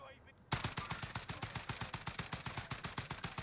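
Rapid gunfire from an FAL rifle in Call of Duty: Warzone starts abruptly and continues as a steady string of sharp, evenly spaced shots, loud and close.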